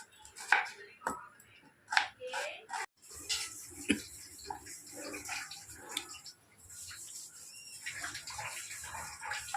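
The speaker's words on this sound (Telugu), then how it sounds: "ఉల్లిపాయ, పచ్చిమిరకాయలు కూరకి కట్ చేస్తున్నాను" Onions and green chillies being chopped for a mutton curry: a knife taps rhythmically on a cutting board, with quick bursts of cuts. A soft kitchen clatter and faint voices sit in the background.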